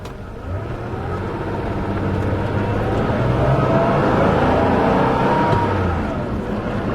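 A Porsche 911 creeping along at about five miles per hour, its engine a steady low rumble with a slight rise in the middle and no talk over it.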